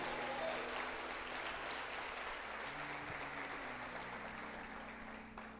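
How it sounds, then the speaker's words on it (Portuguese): Church congregation applauding after a call to give glory to God, steady broadband clapping fairly quiet and distant, tapering slightly toward the end, with faint low hum beneath. "dá um glória a Deus e aplauda Ele."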